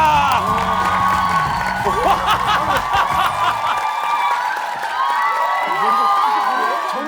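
Studio audience on a Korean variety talent show claps and cheers for a performer doing a hair-strength stunt, a lively crowd roar with whoops and scattered laughter, while voices talk over it.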